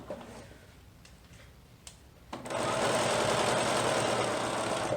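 A sewing machine stitches the straps of a baby jumper at a regular stitch length, a soft ticking start before the motor kicks in around halfway and runs as a steady, loud, continuous whir to the end.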